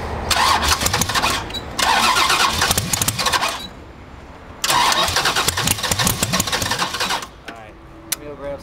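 A project car's engine cranks for the first time in repeated loud starter bursts, each grinding churn lasting a second or two with pauses between, followed by a brief pop and voices talking quietly.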